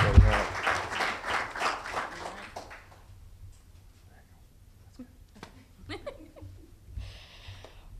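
Audience applause welcoming Anita Howard as the new Columbus State University women's basketball coach, a loud burst of clapping and cheering that fades after about three seconds into near quiet, with faint voices and scattered sounds after.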